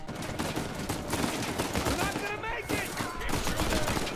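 Gunfire in Uncharted 4: A Thief's End on Crushing difficulty, a dense rattle of rapid shots and bursts at moderate loudness, with some background game sound mixed in and no clear pause.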